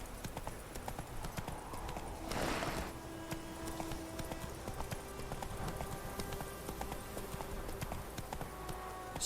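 Horse hooves clip-clop at a steady walking pace in The Witcher 3, a continuous rhythmic patter of moderate loudness with a brief rustling burst early on.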